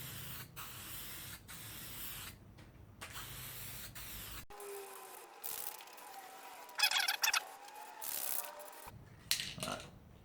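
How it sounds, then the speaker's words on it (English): Upturned aerosol spray paint can being cleared, short hissing bursts of spray separated by pauses and small clicks, close and alone. "Turn that can upside down, spray till it comes clear"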